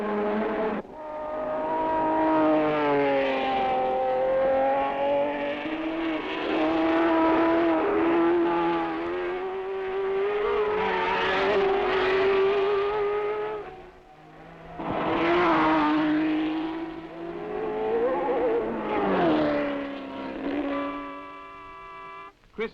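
Grand Prix racing cars on lap ten, engines screaming and rising and falling in pitch as several pass in turn, loud near sweeps separated by a brief lull, with no voices.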